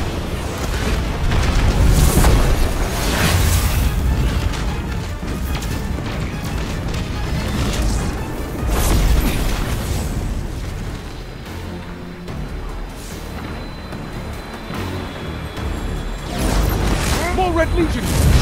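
Missiles burst in Destiny 2 during a battle for the city, heavy booms and crashes rolling through a dense, chaotic mix with several strong blasts, while voices talk over the action.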